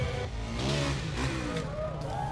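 Car engines rev at a stunt show with cars driving on two wheels, rising and falling whines over a crowded outdoor din, fairly distant and mixed with background voices.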